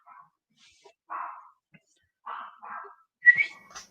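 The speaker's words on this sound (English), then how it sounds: "Your dog's going crazy." An excited dog lets out a series of short, sharp barks and yelps in irregular bursts, fairly close, with quiet gaps between them.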